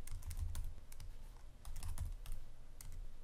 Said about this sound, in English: we just simply type the text here.